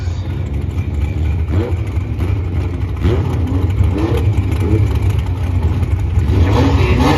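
A Camaro and a CRX race car rumble and rev at a drag strip test-and-tune day, with a loud, continuous engine drone that climbs in pitch and pulses through the whole stretch.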